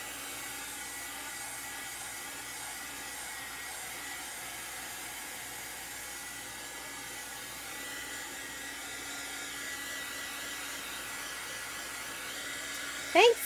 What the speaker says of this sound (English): Now I'm going to dry it before I heat set it